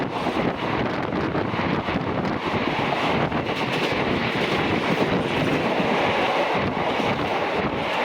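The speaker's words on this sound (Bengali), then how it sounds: "আমাদের বেলপুরিয়ার ওপর দিয়ে যাচ্ছে ট্রেনটা" The Gangasagar Express passenger train runs near Belgharia, recorded from on board as a loud, steady rumble of wheels and carriage noise with wind rushing past throughout.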